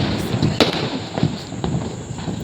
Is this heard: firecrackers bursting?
yes